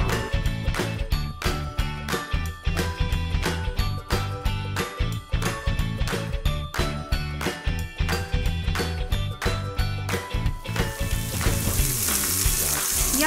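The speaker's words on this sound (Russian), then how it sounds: "Куриное филе солим и перчим и обжариваем до готовности." Salted and peppered chicken fillet frying in a grill pan, a steady loud sizzle with rhythmic metallic clinks and taps of utensils against the pan, turning into a bright hiss near the end.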